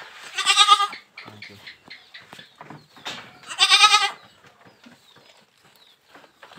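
Young fullblood Boer goat kids in a pen on a farm bleat loudly and close up, with two long quavering cries separated by shuffling, rustling and small knocks.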